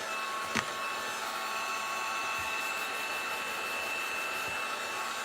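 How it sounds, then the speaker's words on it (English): A heat gun blows hot air in a steady, fairly faint whoosh with a faint tonal whine, used to smooth wrinkles on a DIY wildflower sign; one brief knock sounds near the start. "I'm going to take my heat gun"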